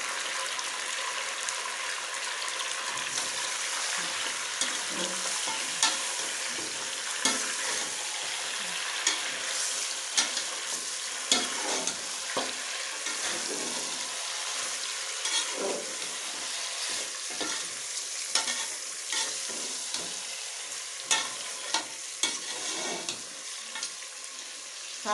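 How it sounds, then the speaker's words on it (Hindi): Mutton frying in a pan for nihari, giving a steady close sizzle with frequent scraping and stirring strokes throughout, no voices. "इसे डाल के मैं इतनी देर भूनूंगी ताकि इसका कलर बदल जाए गोश्त का।"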